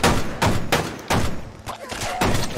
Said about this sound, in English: I'm just now hearing all of your guys' gunshots after everybody's dead.